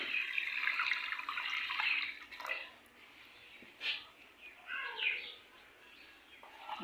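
Water is poured into a cooking pot with eggs for an aloo tikki recipe: a soft, steady splashing stream that thins into intermittent trickles and drips, fairly faint and close.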